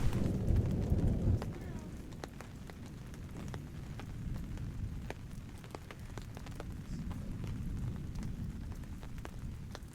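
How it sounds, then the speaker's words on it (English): Heavy rain pours down at a backcountry canoe campsite on Temagami Lake, a steady dense hiss with a louder rumbling burst at the start. "it is raining cats and dogs right now"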